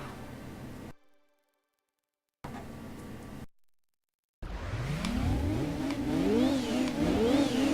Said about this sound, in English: Yep, that sounds like a Wankel engine.